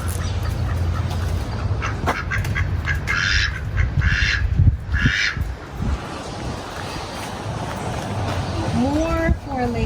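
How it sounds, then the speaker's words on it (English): Ducks quack and squawk among other farm birds at a preschool, some calls near and sharp, others farther off, while people talk steadily over the bird noise. "We have peacocks, roosters, chickens, and more feathered friends here, our ducks."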